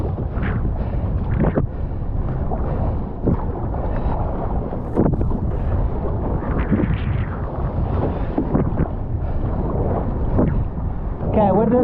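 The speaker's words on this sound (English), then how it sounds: "Okay, wind is blowing a bit," Strong wind buffets the microphone in steady heavy gusts on the water from a fishing kayak, a loud rumbling roar outdoors with no voices.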